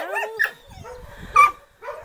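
Abandoned puppy found in a small pine wood gives a couple of short, high whimpers and yips with soft barks in between, close and fairly loud, with no voices over it.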